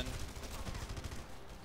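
Rapid machine-gun fire in the game Red Faction: Guerrilla comes as a dense, continuous burst of crackling shots, loud and close, for the whole brief moment.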